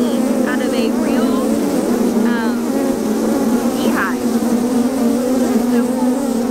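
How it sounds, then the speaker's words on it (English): Honeybees buzz loudly and steadily around a honey frame lifted from a real beehive, a dense continuous drone held close throughout, with a few brief higher chirps mixed in. "So all the bees are on here, and this is where they store all of their honey."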